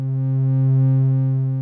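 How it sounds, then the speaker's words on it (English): A Radical Frequencies DPVCO Eurorack oscillator sounds a steady, loud, buzzy tone whose timbre is shaped by static FM from a modulating sine wave. The tone holds unchanged for nearly two seconds with no voice. "dial the tuning down a little bit on beta to compensate for the modulating sine wave being stronger on the positive excursions"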